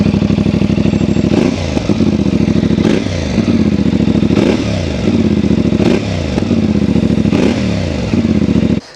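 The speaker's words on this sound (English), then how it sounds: "let's have another little listen to the exhaust on this bike, because it sounds absolutely beautiful" A CF Moto 450MT motorcycle exhaust rumbles steadily up close, with several blips of the throttle rising and falling in a repeating rhythm, no voices.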